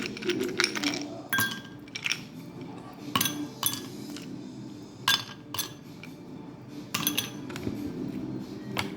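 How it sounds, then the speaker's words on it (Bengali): Ice cubes drop into glasses for sherbet, making bright clinks and rattling chinks in several bursts close by, over a low background murmur. "এখন এর মধ্যে আইস দিয়ে দিচ্ছি"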